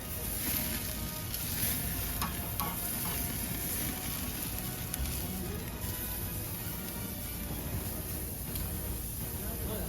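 The most expensive steak sears over an open fire, giving a steady, close, even sizzle and crackle that runs unbroken throughout.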